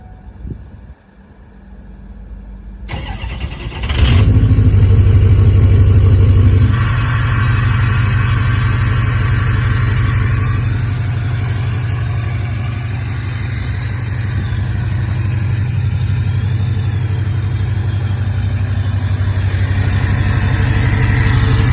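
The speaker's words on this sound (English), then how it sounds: "Give you guys a not so cold start on Kaylee's truck" A lifted Ford Powerstroke diesel pickup fires up, its engine catching after a few seconds with a loud surge, then settling into a steady, deep, rumbling idle close by, with no talking over it.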